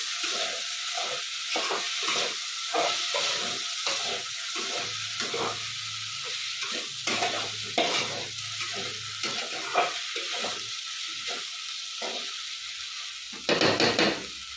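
Sabudana khichdi being stirred as it fries in oil, with a steady sizzle and hiss under repeated scraping strokes of a spoon against the pan, close and fairly loud throughout, a brief louder burst near the end.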